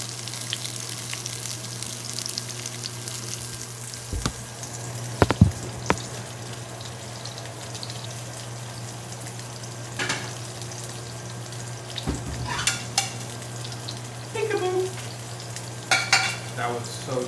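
Salmon fries in a pan with a steady, quiet sizzle and a low hum underneath, broken by occasional sharp pops, spatters and a few clinks, close by with no talking.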